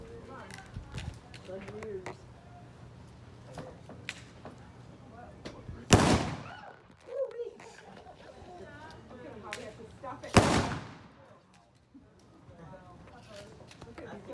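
Rifles fire in a drill outdoors, two loud sharp cracks several seconds apart, each with a short rolling echo, while people talk before and between the shots.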